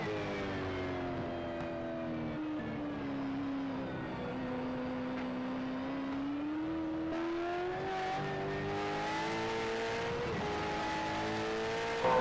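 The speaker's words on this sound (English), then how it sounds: "The sound of these cars is amazing." V8 race car engines from a racing sim game at Mid Ohio drone steadily at high revs, the pitch rising and falling through gear changes and corners, with a sustained loud, buzzy engine note and no talking.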